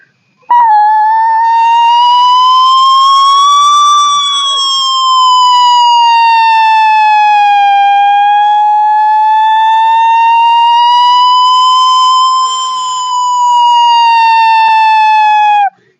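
A loud electronic fire engine siren responding to a shop fire wails steadily in slow rising and falling sweeps, close and continuous, with nothing else audible.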